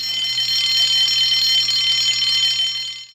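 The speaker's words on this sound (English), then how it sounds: "Soon came the alarm." A steady, loud electric alarm bell rings continuously in a Thomas the Tank Engine railway film, a bright sustained ring that cuts off at the end, with no talk over it.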